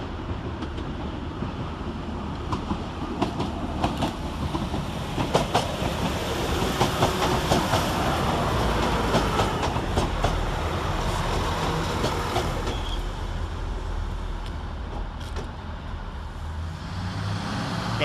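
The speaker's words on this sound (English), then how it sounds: "Next into the station is 195108 with the 1421 Northern service from York to Blackpool North." Northern unit 195108 on a York to Blackpool North service pulls into Blackburn station, a steady rumbling approach with rail clatter and rhythmic wheel clicks building then easing as it slows, with no talk.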